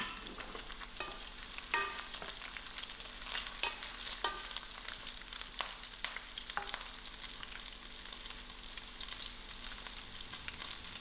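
Dry and green chilies frying with ginger garlic for chicken chutney, a continuous close sizzle broken by repeated scraping stirs and spoon taps against the pan, with no voices.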